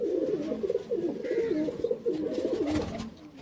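A male and female pearl-eyed pigeon pair of the Jak Pilong Chuithal type coo close by in repeated rolling, throaty phrases, with light rustling in between.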